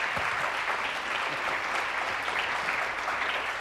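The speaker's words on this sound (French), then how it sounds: "Vous pouvez applaudir Patrice qui arrive, évidemment." A French television studio audience applauds a guest's entrance, a dense, even wash of clapping held at a steady level throughout, with no voices over it.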